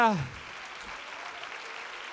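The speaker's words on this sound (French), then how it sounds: "Et je voudrais qu'on les applaudisse encore très fort." An audience at a school music concert claps for performers from French international schools in Murcia, a steady, even wash of applause that follows a brief voice at the very start.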